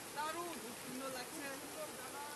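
A mountain waterfall pours as a steady, loud broadband rush that fills the whole clip, with a voice talking over it.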